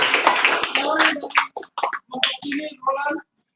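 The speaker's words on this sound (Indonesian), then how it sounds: "Sama-sama tepuk tangan dulu." A classroom of students and their teacher clap together in an irregular burst, the claps mixed with voices and chatter and fading into scattered talk.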